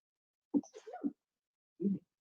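A single sharp sneeze, close and fairly loud, followed after a brief pause by a shorter vocal burst.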